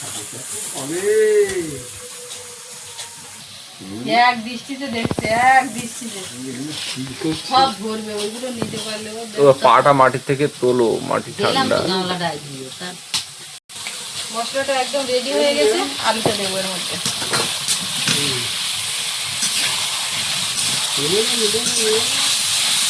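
A mixed ground spice paste is dropped into hot oil in a pan for potato curry. It bursts into a loud sizzle and then settles into a steady hiss that rises again near the end, with someone talking over it for much of the time.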